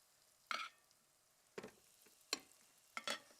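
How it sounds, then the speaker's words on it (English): Short bursts of sizzling from beef hitting hot oil in a Westinghouse CTChef multi cooker, four separate crackling spurts spaced apart, fairly quiet and close. "You can hear that to start to sizzle."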